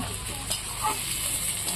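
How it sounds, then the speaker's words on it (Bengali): Fish roe frying gently in a pan over a wood fire, giving a steady, even sizzle and hiss with faint crackles, close by and continuous. "মাছের ডিমটা আমাকে একবারে হালকা করে ভাজতে হচ্ছে"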